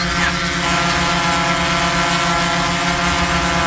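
A DJI Air 3S drone flies back overhead with a loud, steady propeller whine whose layered harmonic buzz holds constant throughout, close and unbroken.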